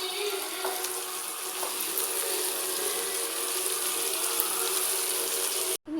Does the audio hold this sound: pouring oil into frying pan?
yes